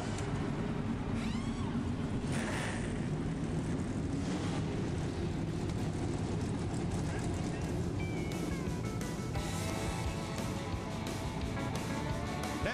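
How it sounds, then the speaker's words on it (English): NASCAR stock car engines fire up on the starting grid at Daytona, a dense, continuous roar with crowd and wind noise mixed in, heard from a distance, with some talking over it. "The engines have fired."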